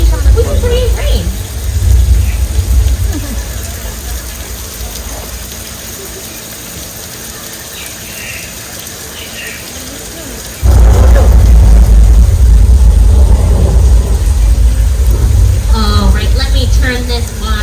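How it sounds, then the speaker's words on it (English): On a Universal Studios Hollywood studio tour set, recycled water from a sprinkler system falls as simulated rain, with loud rumbling thunder effects. The downpour hisses steadily and surges sharply louder partway through. "using a sprinkler system that shoots recycled water directly up into the sky so it falls down to earth naturally, we can create rain"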